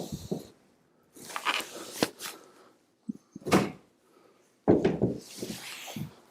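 Tailgate on a Ford F-150 pickup being worked off its hinges, heard as several separate heavy clunks, knocks and scraping rattles with short pauses between them, close and fairly loud.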